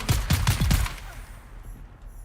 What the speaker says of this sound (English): This gun's badass.